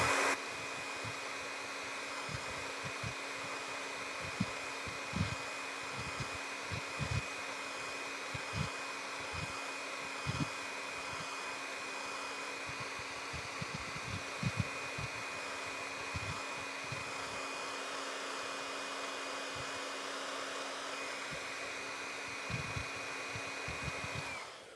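A hair dryer blows steadily on a craft project, a continuous close whirring hiss that runs for about twenty-five seconds with faint clicks and handling noises underneath.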